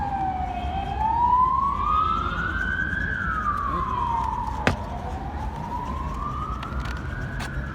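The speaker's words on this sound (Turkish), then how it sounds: "Birisi Ambulans gidiyor." An ambulance siren wails past on a street, a steady rising and falling tone sweeping up and down, moderately distant over traffic noise, with a brief sharp knock partway through.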